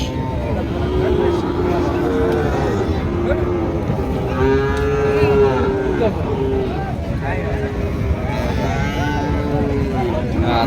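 Sahiwal and Rathi bulls at a cattle market in Panchbibi moo repeatedly, with several long, drawn-out calls rising over a steady crowd babble and someone talking nearby.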